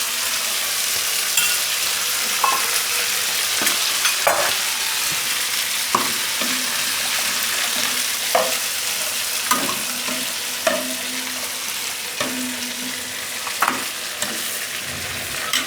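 Spices crackle in hot oil for the tempering of a pea and potato kadhi, a steady close sizzle broken by repeated sharp clinks and scrapes of stirring, with no voices.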